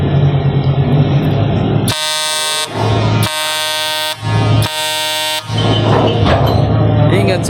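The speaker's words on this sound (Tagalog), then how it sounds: "Isang busina nga dyan." A bus horn blares three long, loud blasts close by, with short gaps between them, over a steady background of engine rumble and street noise.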